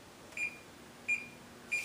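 A kitchen timer beeps three times while a low carb pizza bakes, short thin electronic tones spaced evenly and heard faintly over a quiet room hum.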